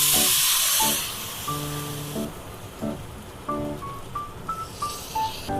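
Water poured onto semolina roasted in ghee hisses loudly at first, then sizzles and bubbles more softly in the pan while faint kitchen tones ring in the background.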